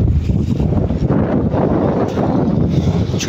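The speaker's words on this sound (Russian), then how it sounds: "Это ветер." Wind buffets the microphone in a continuous low rumble, loud and close, with no voices heard.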